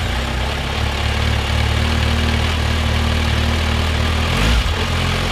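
A Kawasaki Versys 1000 motorcycle idles steadily through its stock muffler, a close, even low rumble that holds throughout with a slight blip near the end.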